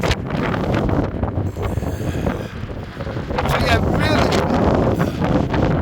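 Strong wind on the Blackpool seafront promenade buffets the microphone in a steady roar, with gusts rising and falling and some indistinct background noise.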